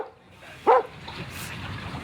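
A hunting dog named Cleo gives a single short, loud bark near hippos at a waterside in South Africa, over a steady murmur of background ambience.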